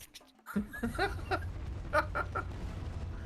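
A squawking, clucking bird cry from a stilt-walking flamingo enemy in Donkey Kong Country Returns, repeated in short bursts over game noise and faint laughter.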